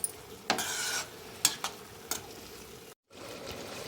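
Raw mango morabba, a sweet pickle, being gently stirred in a pan, with a few soft scrapes and light sizzling at moderate distance and no talking.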